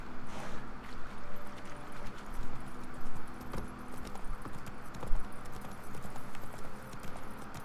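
The horse Roach's hooves clip-clop steadily on the ground in Witcher 3, a rhythmic, close trot with jangling tack over a low ambient background and no talk.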